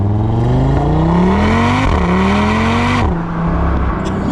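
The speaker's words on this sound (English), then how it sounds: "Dubbed the mini V10, it really does sound like a V10. And this is a standard exhaust as well" Audi RS3 five-cylinder engine on its standard exhaust, revving hard through repeated climbing pulls with brief dips at each gear change, loud and sustained from inside the car, no talking.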